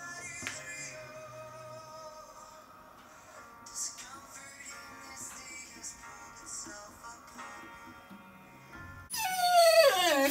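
A dog left home alone whimpers and whines softly, its thin, wavering cries close but quiet over a low background, and a louder burst of sound comes at the end.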